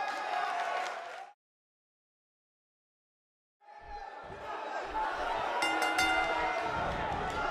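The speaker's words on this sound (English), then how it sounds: "This Atlanta crowd showing their appreciation for a great match" In WWE 2K18, an arena crowd in Atlanta roars, cheers and claps after a wrestling match. The noise cuts out briefly to silence, then swells back with thudding impacts and sustained applause.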